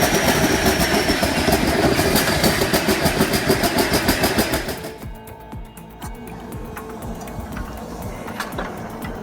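A rare old engine starts and runs loud and close, its rapid steady firing pulses holding for about five seconds before dropping to a quieter, rougher idle that continues to the end.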